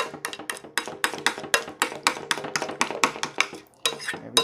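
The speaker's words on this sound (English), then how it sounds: "make sure you stir it up real good" A spoon stirs a lumpy mayonnaise mixture in a bowl for keto egg roll in a bowl, with quick, rhythmic clinks and scrapes against the bowl that repeat steadily and close by, pausing briefly near the end.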